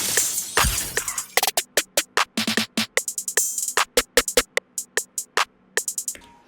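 A produced beat with a pitched sample over added step-style drums: crisp, evenly spaced percussive hits in a steady pattern, with tonal sample notes ringing between them, clean and upfront with no voice.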